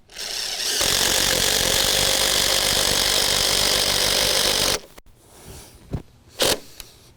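A power tool drives a long timber lock screw into wooden deck framing, a loud steady whirring grind lasting several seconds before stopping, followed by a few sharp knocks and clatters close by.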